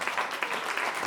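A church congregation claps together in dense, continuous applause that fills the room and sounds close and lively.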